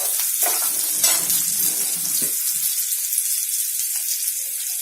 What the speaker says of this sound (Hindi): कांदा हमारा अच्छी तरह से भून चुका है।